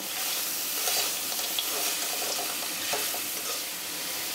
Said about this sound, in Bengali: এখন এটা সাথে দিয়ে আবার একটু লো ফ্লেমে ভাজা ভাজা করব।